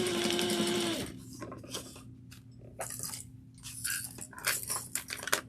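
A sewing machine runs in a fast, steady burst for about a second while back stitching a crossbody bag, then stops, leaving light clicks and handling noises.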